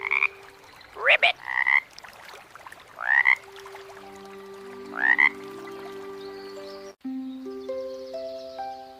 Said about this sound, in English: The frog says, Ribbit.